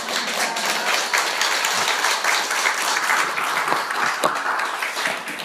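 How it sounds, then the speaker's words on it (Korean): A church congregation gives steady, dense applause ahead of a sermon, the clapping loud and sustained throughout with no speech over it. "이렇게 시작 전부터 박수를 받고 시작한 건 처음입니다"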